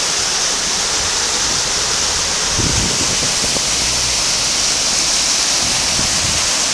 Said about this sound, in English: We're just walking alongside this wee river here.